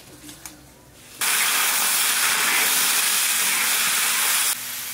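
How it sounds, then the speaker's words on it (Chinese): South American shrimp hit a hot wok over a rural wood fire for a scallion stir-fry, bursting into a loud, steady sizzling hiss after a quiet second, then dropping off abruptly near the end. "直接先把虾煸炒一下"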